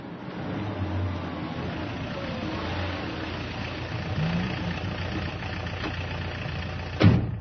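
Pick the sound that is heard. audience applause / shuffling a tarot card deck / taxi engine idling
taxi engine idling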